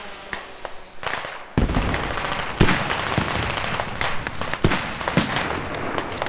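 Mortar shells exploding in a competitive multiplayer shooter match, several sharp loud blasts spaced irregularly with crackling debris between them, under faint background game noise.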